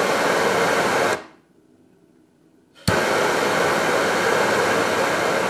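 A propane heat tool for shrink wrapping roars as a steady loud broadband blast, cuts out briefly to near silence, then abruptly fires back up and keeps blowing.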